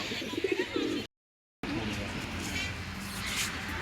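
Pigeons coo softly in the first second over a steady background hum, followed by a brief gap and then continuous low rumbling noise.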